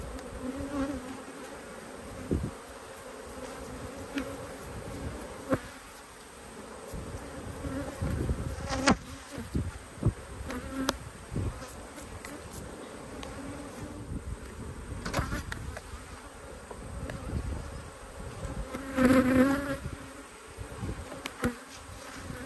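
Agitated honey bees swarm and drone around an opened hive during a honey frame inspection, a dense, continuous close buzz with individual insects zipping past the microphone and occasional brief knocks of handling.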